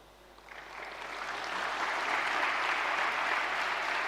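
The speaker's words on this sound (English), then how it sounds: "I hear more clapping from this side than this side" An audience at a live New Year's Eve talk breaks into applause that swells from quiet to a full, steady clapping of many hands, with no talk over it.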